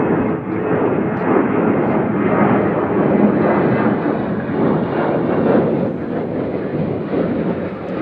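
An airliner from Houston going around at Nashville airport sends a steady, broad jet roar rumbling across the field for several seconds, moderately loud and fairly distant.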